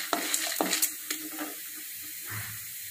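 Mustard seeds, cumin, chana dal and urad dal fry in hot oil for an arai keerai poriyal, giving a steady close sizzle broken by a few sharp stirring clinks and scrapes early on, then settling into a soft crackle.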